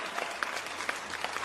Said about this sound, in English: Give a round of applause for Mom Bear